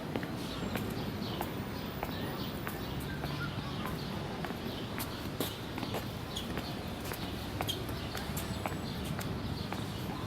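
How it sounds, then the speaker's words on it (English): Footsteps from an audio tour recording tap steadily in an even walking rhythm, moderately close, over constant dense background hiss and room noise. "Try to walk to the sound of my footsteps so that we can stay together."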